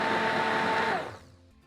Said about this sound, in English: we're going to carefully blitz it to a smooth liquid using a stick blender